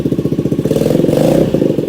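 A Honda Ruckus scooter engine that has sat unused for a long time runs loud and close, with a rapid, rough, even pulsing idle that rises slightly in the middle.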